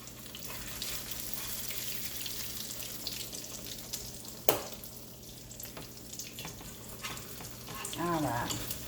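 Cheesy chicken fritters frying in a pan, a steady broadband sizzle throughout with a sharp utensil clack midway and a brief voice near the end.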